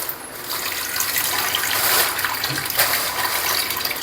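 Running water from a tap pours steadily over chicken pieces being washed in a sink, a continuous broadband splashing rush with small shifts as the pieces are moved about.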